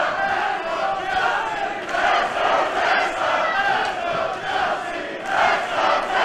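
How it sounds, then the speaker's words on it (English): A large wrestling crowd roars and cheers continuously at a heated women's match, a dense wall of voices that swells and dips without letting up, with no distinct commentary over it. "Seems to me that the crowd split right down the middle, cheering for both women."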